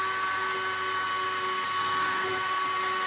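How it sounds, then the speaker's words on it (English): A sharp, steady blast of compressed air blowing excess material off a trefoil sculpture base, close and loud with a high hiss that holds evenly throughout. "Blow off the excess."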